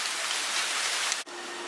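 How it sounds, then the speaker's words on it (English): Rain from Hurricane Hanna falls steadily in Houston, Texas, a dense, even hiss of drops on surfaces, close and loud, before it cuts abruptly to a quieter wash of rain. "It's supposed to keep raining for quite a while"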